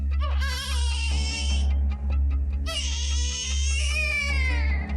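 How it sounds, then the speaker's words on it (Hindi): A young baby cries loudly and continuously in wailing bursts at night, close up, with a steady low hum underneath. "रात को 10 बजे पड़ोसियों ने एक छोटे बच्चे के रोने की आवाज सुनी।"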